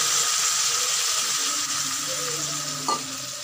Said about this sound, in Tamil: இப்போ இதுக்கு தேவையான அளவு தண்ணி ஊற்றிக்கலாங்க.